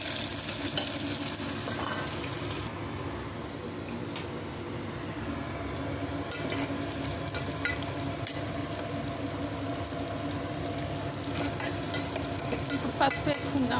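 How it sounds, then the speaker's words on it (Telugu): Cinnamon, cloves, cumin, sliced onion and curry leaves fry in hot oil for a capsicum curry. A bright crackle at the start drops to a steady sizzle, punctuated by repeated scraping and clinking from stirring, with no talking. "ఆయిల్ వేడి అయిందండి. ఇప్పుడు ఈ పట్ట, లవంగం, కొంచెం జీలకర్ర వేసుకుందాము. ఉల్లిగడ్డ, కరివేపాకు కూడా వేసేసుకుందాము."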